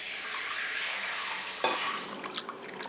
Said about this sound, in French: On remue plusieurs fois de façon à ce que les graines lourdes et pleines tombent au fond du récipient.